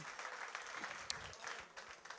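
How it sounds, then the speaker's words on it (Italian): Audience at a live show breaks into sustained applause, dense steady clapping filling the whole stretch at an even level. "Ma facciamo un applauso vero."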